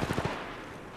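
A quick burst of about four close, rapid gunshots in Apex Legends Mobile, fading into a short tail of echo and faint background noise.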